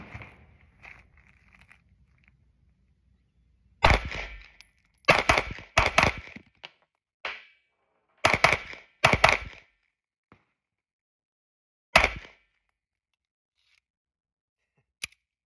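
Pistol shots from a Sig P365 X-macro and a ported CZ P-01 at a range: about eight sharp, loud reports in irregular pairs and singles, separated by silence.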